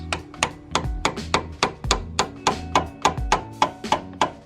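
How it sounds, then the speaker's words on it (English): Metal taps ring out in a quick, steady series, about fifteen sharp strikes of a hammer on a flathead screwdriver while adjusting rear coilovers on a Nissan 350Z convertible, close up with no talking. "Put a flathead in there and just give it a few taps."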